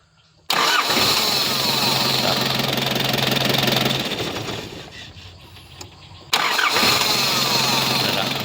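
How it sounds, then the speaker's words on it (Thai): A 1996 Nissan Big M pickup truck engine cranks and fires up, then settles into a steady, loud idle that eases slightly before revving again. "สตาร์ทง่ายๆนะครับ เสียงเครื่องนิ่ม ๆนะครับ"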